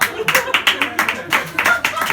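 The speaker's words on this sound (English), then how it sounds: "Applause break for those two Americans." Audience clapping at a stand-up comedy show, a short burst of scattered, uneven handclaps from a small crowd, fairly close and brief.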